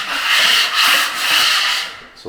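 A drywall knife scrapes down high points of drywall mud, making loud, close, rough rasping strokes in two or three long sweeps that fade toward the end, with no one talking.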